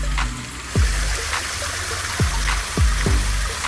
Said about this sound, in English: That waterfall fills up with water and it spills it out.